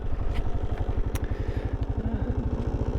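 Kawasaki KLR 650 dual-sport motorcycle, a 2023 model, riding with a steady rhythmic single-cylinder engine thrum, close and loud throughout, with faint wind and clatter over it.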